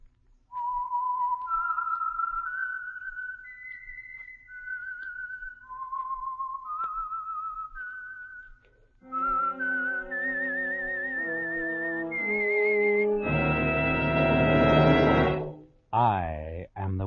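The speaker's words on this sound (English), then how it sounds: "the signal to listen for is this whistle that identifies the signal oil program, the Whistler" A melodic whistled theme identifying the Signal Oil radio program The Whistler: a lone whistler carries a slow, wavering tune, then orchestral accompaniment swells in underneath and builds to a loud, sustained chord.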